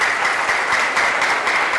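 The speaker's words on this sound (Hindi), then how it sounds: "एक बार जोरदार तालियां इनके लिए होनी चाहिए।" Loud, steady applause from an audience at a health talk, with dense clapping sustained without a break and no voices heard.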